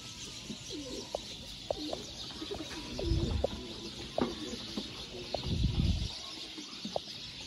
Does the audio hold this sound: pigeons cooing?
yes